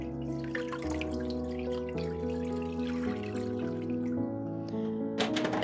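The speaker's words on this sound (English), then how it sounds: "And then I'm going to add in some water" Water running from a tap into a large pot over chicken breast, a steady filling sound with rising pitch as the pot fills, quiet and close.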